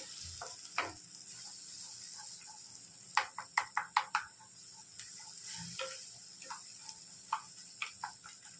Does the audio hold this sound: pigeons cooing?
no